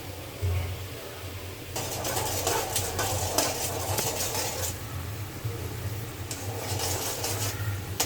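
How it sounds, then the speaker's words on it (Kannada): Sugar syrup for a homemade cake bubbling in a pan over high flame while it is stirred, a continuous close hiss and bubbling with scraping strokes, over a low steady hum, with no talk. "ನೋಡಿ, ಪಾಕ ಎಷ್ಟು ಚೆನ್ನಾಗಿ ಕುದೀತಾ ಇದೆ."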